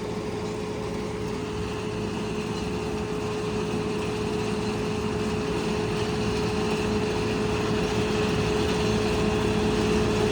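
A steady tractor engine drone runs throughout with a constant low hum and a whining tone above, close and unchanging, with no voices.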